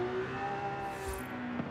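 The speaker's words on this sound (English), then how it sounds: "I'm not sure how much I love the sound of the" A Lamborghini Aventador-based V12 plays in the racing game Forza Horizon 5. A faint, steady engine drone holds under a tonal hum with a brief swell, and no voices are heard.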